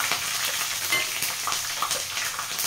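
Cumin, mustard seeds, peanuts and green chilies fry in hot oil, giving a steady, close sizzle with scattered crackles and small pops.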